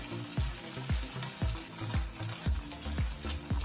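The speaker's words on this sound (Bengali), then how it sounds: "এরপরে আলুটাকে দশ মিনিটের জন্য মিডিয়াম ফ্লেমে ভেজে নিন" Potatoes and ridge gourd frying in a pan on a medium flame, a soft steady sizzle punctuated by regular thudding scrapes about every half second, close and without speech.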